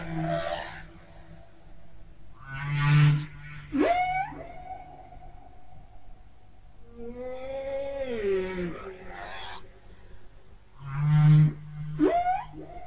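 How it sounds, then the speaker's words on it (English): Humpback whale vocalizing underwater in the video game Endless Ocean, a series of moaning, rising and falling calls and upsweeps with pauses between them, moderately loud and alone with no voices. "The humpback whale, Megaptera nova anglia, is a large baleen whale found throughout the world's ocean."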